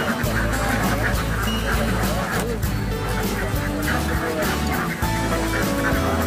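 A flock of ducks honks and quacks continuously in a rice field while kept for egg laying, with a dense, steady chorus of overlapping calls.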